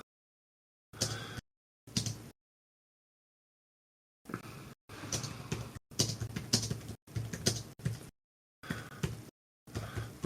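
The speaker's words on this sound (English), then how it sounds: "I'm just typing in banter." Bursts of keyboard typing, clattering keystrokes in short runs separated by pauses, fairly close and clear with no talking.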